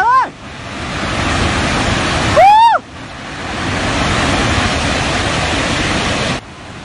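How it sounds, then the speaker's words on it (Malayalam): A landslide sending water and mud rushing down a hillside produces a steady, loud roar of torrential flow. It is broken twice by short rising-and-falling whistle-like tones. "മലമുകളിൽ ഉരുൾപൊട്ടി വെള്ളം മണ്ണോടുകൂടി താഴേക്ക് കുത്തിയൊഴുകുന്ന കാഴ്ചയാണ് ഈ കാണുന്നത്."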